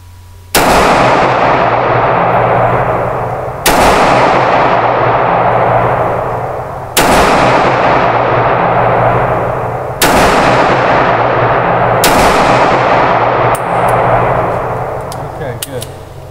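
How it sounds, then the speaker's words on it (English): Five loud .38 Special revolver shots at an outdoor shooting range, evenly spaced about three seconds apart, each a sharp crack with a long echoing decay, followed by faint clicks. "Let's shoot the, shoot the 38 special."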